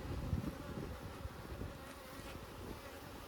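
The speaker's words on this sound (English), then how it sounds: "there are a lot of bees on the rim" A dense swarm of bees buzzes close by at a hive during an inspection, a constant droning hum with no voices.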